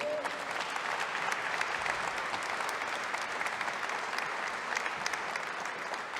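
An Easter concert audience claps steadily in a sustained round of applause, an even, full-room patter heard at moderate distance with faint voices beneath.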